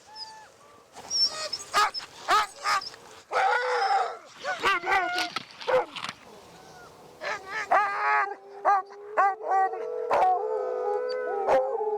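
Sled dog teams on a Greenland ice-cap expedition howling and yipping together, a chorus of overlapping drawn-out howls and short whimpers rising and falling, fairly close and loud throughout.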